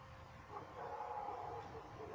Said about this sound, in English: If you can hear those dogs